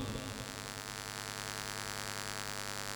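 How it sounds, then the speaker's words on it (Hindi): Steady electric fan drone picked up by a microphone at a religious conference hall, a continuous humming whir with no talk over it. "पंखे की आवाज़ से मुझे प्रॉब्लम है, हवा से नहीं है।"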